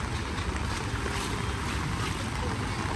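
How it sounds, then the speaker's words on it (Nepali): Floodwater from an overflowing river rushes through a street in Kathmandu, a constant loud, broadband roar with wind buffeting the microphone, steady and close throughout. "यो यहाँको पानी बगिरहेको छ"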